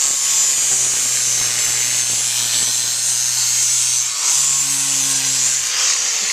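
Power grinder beveling a horse's hind hoof during a natural barefoot trim, a steady high whining abrasive rasp that runs continuously and close, with a slight dip in pitch partway through.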